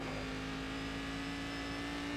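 A Cadillac race car in the iRacing simulator at Bathurst hums with a steady, sustained engine drone, the throttle held evenly and loud throughout with no talk.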